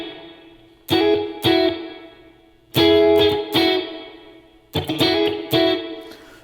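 Spring reverb effect on an 80s-style dancey, poppy pop intro, with loud bright chord stabs in a syncopated rhythm trailing into a splashy, metallic reverb wash, no voices.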